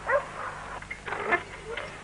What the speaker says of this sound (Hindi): कुत्ता खुश है।